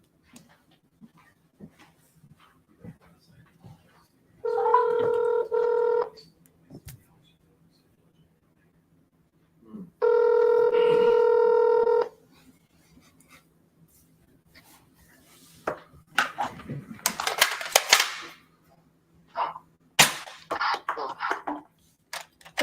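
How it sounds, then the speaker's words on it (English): A telephone dialing out on a sales call gives two sustained, steady tone bursts, each about two seconds long, separated by a short silence, followed by scattered faint clatter and brief voices. "Let us continue to dial."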